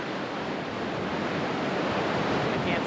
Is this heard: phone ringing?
no